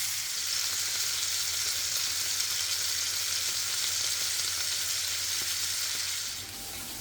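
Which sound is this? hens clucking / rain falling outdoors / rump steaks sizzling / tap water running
rump steaks sizzling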